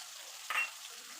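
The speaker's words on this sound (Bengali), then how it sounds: "এখন দিয়ে দিলাম পেঁয়াজ বাটা" Onion paste lands in hot oil for fish kalia, where a steady sizzle is crossed by one brief, sharp stirring scrape near the middle.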